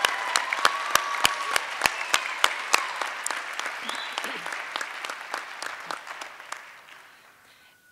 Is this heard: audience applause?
yes